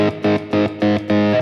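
An electric guitar with the neck pickup rolled off plays four sustained chords in a steady rhythm, loud and close, with a distorted edge and no voices.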